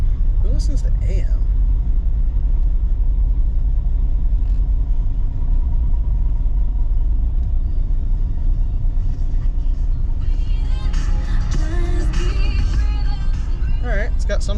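A Chevrolet Monte Carlo SS that runs and drives but needs brakes, tires and wheels rumbles steadily from inside the car as it is driven, a low engine drone throughout with brief louder noise near the end.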